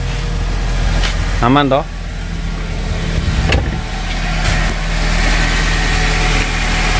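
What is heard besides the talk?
Nissan X-Trail T30 engine starting and idling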